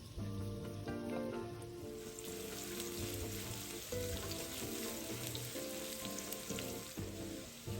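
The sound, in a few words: shallot slices frying in oil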